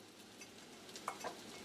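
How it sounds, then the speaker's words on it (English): Chicken browning in a pan over sliced mushrooms, a faint steady sizzle with a couple of soft utensil clicks near the end, quiet and close. "While my chicken is browning"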